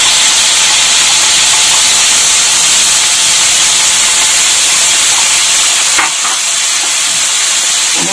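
A ground paste of onion, garlic and dried red chili sizzles in a hot pan for a loitka shutki fish dish, a loud, steady steamy hiss with a brief clatter of stirring partway through.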